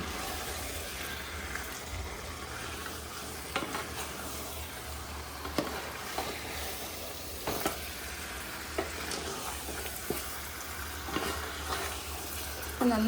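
Chicken curry is stirred in a pot, a moderate frying sizzle broken by repeated scraping and knocking of the spoon at an uneven pace.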